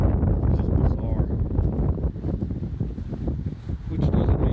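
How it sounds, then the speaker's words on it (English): Strong cold-front wind buffets the microphone outdoors, a loud, continuous roar with gusty swells and rustling, with no break for the full stretch. "It's really windy"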